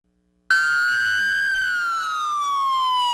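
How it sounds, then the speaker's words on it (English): A police siren starts abruptly and wails loudly in a long, slowly falling tone, sustained and close, with no talking, during a procession of 100 police cars in Rolla. "The sound of 100 police sirens took over the main drag"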